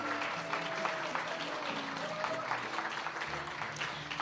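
Applause for graduates at a church service, a dense, steady clapping from a congregation filling the hall throughout, with faint voices and a low musical tone beneath.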